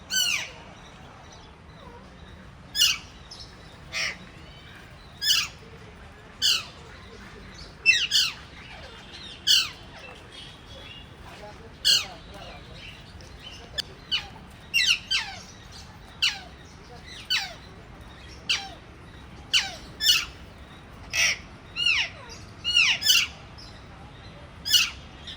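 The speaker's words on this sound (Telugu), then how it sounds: "ఇవి లవ్ బర్డ్స్." Lovebirds in a zoo enclosure give repeated shrill squawks, about twenty sharp calls spaced irregularly over a quiet, low background hum, fairly close and clear.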